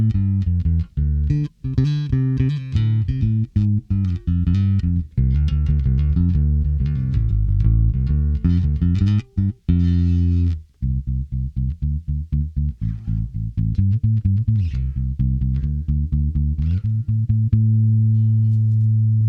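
A 42-year-old Japanese Tokai TPB-57 bass guitar played through a Fender Rumble 100 amplifier, loud and close, a run of plucked notes and lines with a brief pause midway and a sustained low note at the end.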